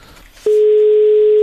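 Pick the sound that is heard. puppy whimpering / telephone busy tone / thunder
telephone busy tone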